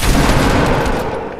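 Rapid gunfire from the video game Fortnite, a dense loud burst of shots filling the clip with no talk over it, tapering off at the end.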